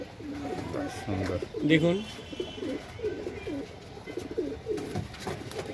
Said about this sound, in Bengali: লাল জিরা ঘরের পায়রা আছে